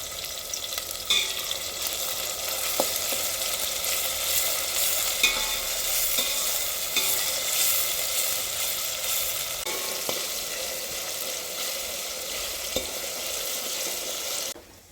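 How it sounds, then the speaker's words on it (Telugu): Ginger garlic paste frying with tomato and onion in a pan in a village kitchen, a loud continuous sizzle with scattered spoon clicks and stirring scrapes, close and unbroken until it cuts off at the end. "ఒక స్పూన్ అల్లం వెల్లుల్లి పేస్ట్ వేస్తున్నా."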